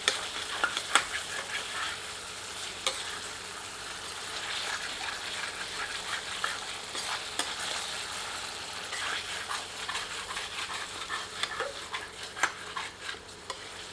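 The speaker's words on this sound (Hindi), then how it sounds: "दस मिनट उपरांत एक बार अच्छी तरह करछी चलाते हैं।" Chicken rezala frying in a pot and stirred with a ladle, a soft continuous sizzle with scattered scraping clicks, quiet and close, no voices.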